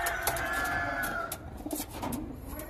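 Pigeons coo repeatedly in a loft, soft throaty calls overlapping at close range, with scattered light clicks and shuffling behind them and no talking.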